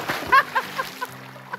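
Water at a lake sloshes and splashes in a quick series of short bursts, close and lively, with a voice murmuring faintly underneath.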